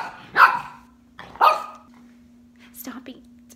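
A pet dog barks indoors at mealtime, two sharp, loud barks about a second apart followed by a softer double yip, with a steady low hum underneath and no talking over them.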